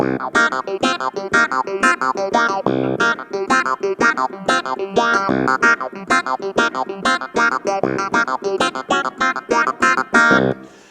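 A funky clavinet riff plays alone in quick, choppy eighth notes, percussive and bright, repeating a syncopated groove for several bars.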